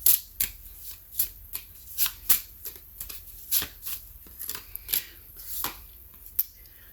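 A deck of oracle cards being shuffled by hand: a quick run of crisp riffling flutters and soft slaps, close and fairly quiet, with no talking.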